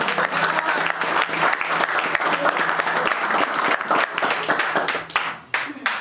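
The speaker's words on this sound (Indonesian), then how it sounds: "Tepuk tangan buat Tuhan." A church congregation at a Seoul gathering breaks into loud, sustained applause, dense clapping filling the room for several seconds, with voices faintly mixed in before it thins out near the end.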